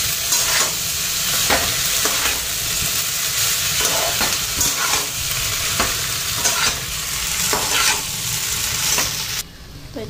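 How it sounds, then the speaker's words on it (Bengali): Onions fry in a hot pan with a steady, loud sizzle, broken by repeated scraping strokes as a spoon stirs them, the rhythm regular and close with no talking. "পেঁয়াজটা আর বেশি ভাজুন না"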